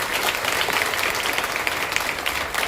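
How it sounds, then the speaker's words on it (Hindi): Loud, dense applause from a school assembly at a girls' school in Tarana, Ujjain, welcoming the principal; a continuous roar of many hands clapping throughout with no speech. "महेंद्र मैडम के लिए तो जोरदार तालियां बजाना चाहिए"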